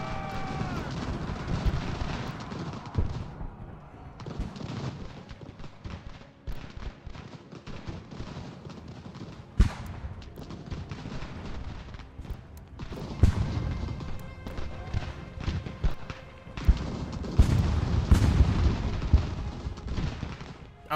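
Artillery and musket fire on an American Revolution battlefield in Ultimate General, with sharp cracks and heavy booms in irregular bursts, some loud and near, others faint, separated by quieter gaps.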